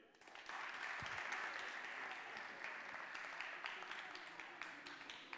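Audience applause at a French high school trophy ceremony, a steady dense wash of many hands clapping that holds at an even level for the whole stretch.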